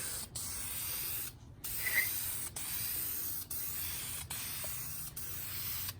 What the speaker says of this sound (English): this dupe color sprays way better than this